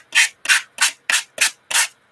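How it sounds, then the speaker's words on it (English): A sanding block rubs the rough edge of a watercolor earring in six quick, even strokes, each a short, close, gritty scrape with brief gaps between. "sanding block"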